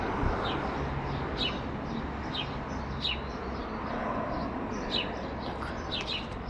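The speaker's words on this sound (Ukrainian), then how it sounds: "Слухайте, які гарні пташки" Several birds chirp and tweet in short repeated calls over a steady outdoor background hum, moderately distant, with no one talking.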